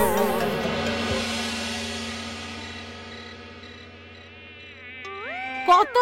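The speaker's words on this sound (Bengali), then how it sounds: "একটা মশাও যেন না বাঁচে। অনেক রক্ত খেয়েছে এরা।" Mosquitoes whine in a thin, continuous high buzz that slowly fades, then a brief sharper tonal sound rises near the end.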